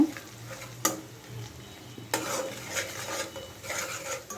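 Chopped onion frying with turmeric for a potato curry, a steady close sizzle broken by sharp scrapes of a spoon stirring against the pan, with no voices.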